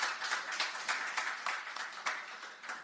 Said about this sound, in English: Let's hear a round of applause for these two guys.